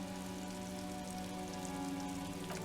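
Rain in Disco Elysium falls steadily and pattering on surfaces near an industrial harbor, a continuous soft wash of droplets under a low ambient hum, with no voices.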